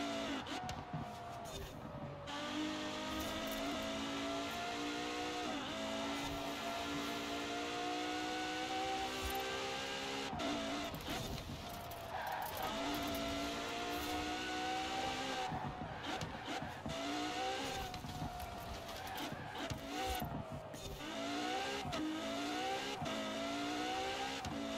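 A race car in Forza Horizon 4 roars through The Goliath seasonal championship, its engine revving and shifting pitch continuously with tire squeal through corners, loud and close throughout.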